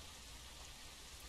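Steady rain falls in Phasmophobia, a constant even hiss of downpour filling the scene with no voices.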